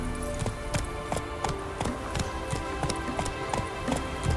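Steady rhythmic hoofbeats of a galloping horse in The Witcher 3, evenly paced clip-clop thuds repeating close by at moderate volume with no one speaking.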